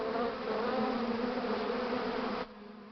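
A dense, steady insect buzz from a large swarm of killer bees, loud and continuous, with the droning dropping off sharply near the end.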